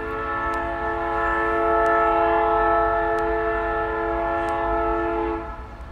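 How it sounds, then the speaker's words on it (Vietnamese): Sustained horn of a passing train, steady harmonic blare holding loud for about five seconds before cutting off, with faint rumble underneath and no talking. "các vị biết cái đó là tiếng còi xe lửa"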